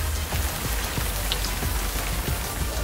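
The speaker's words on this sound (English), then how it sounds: "You need some rain. Rain, come." Steady rain falls in an animated children's show, a dense even patter of drops close by, alone with no talking.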